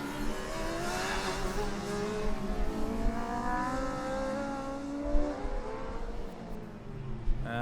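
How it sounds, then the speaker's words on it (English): A Formula Student race car threads through a slalom during an endurance event, its engine rising and falling in pitch as it revs between corners, loud and steady with a few brief thumps. "Car 55 now going into the slalom, and it really is looking slow"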